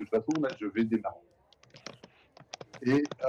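Quick computer keyboard key clicks patter close to the microphone during online voice chat while people talk over them in short bursts.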